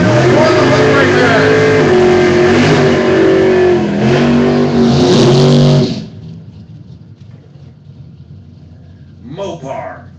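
Mopar and Chevrolet drag race cars roar at full throttle at the I-57 Dragstrip during a Footbrake class final, loud and close with shifting engine notes under an announcer's voice, then cutting off abruptly to distant crowd noise.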